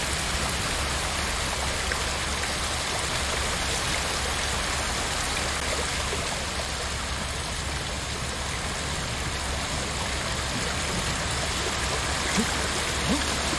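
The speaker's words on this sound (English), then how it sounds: "Man, the waterfall is loud." A loud waterfall roars in the Ghost of Tsushima video game, a steady, dense wash of rushing water that fills the whole stretch without letup.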